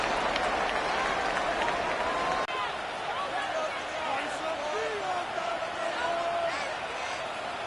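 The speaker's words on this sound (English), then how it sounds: "The crowd making their presence felt." Roaring stadium crowd at an NFL football game between the Texans and Ravens, a steady loud wash of cheering and noise filling the whole stretch, with a brief dip midway, no distinct voices standing out.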